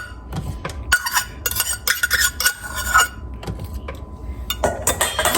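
A spoon or spatula scrapes and clinks against a sour cream container and a bowl in a home kitchen while banana bread is made, with irregular close scraping and tapping bursts and no talk.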